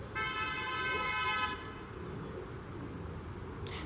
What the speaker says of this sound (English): Somebody honked at him.